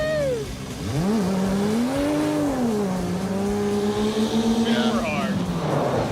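A loud Dodge Charger engine holds a high, stuttering rev against the limiter, its pitch bouncing and wavering for several seconds, with voices talking over it.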